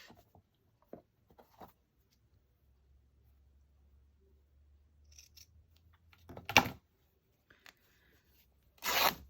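Scissors cut through paper or craft material for a no-sew cookbook journal, two sharp bursts of snipping late in the stretch after quiet handling rustles, close and fairly loud.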